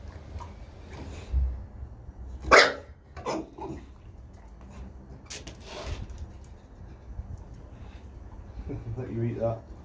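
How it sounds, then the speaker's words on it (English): An Olde English Bulldogge barks on command during a training session, giving several short barks spread through the span. Someone speaks commands and praise in between, and the room ambience is soft. "So the two barks now."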